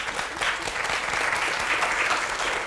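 An audience claps in steady, dense applause at a women's health policy event, a continuous crackle of many hands filling the room with no voices over it.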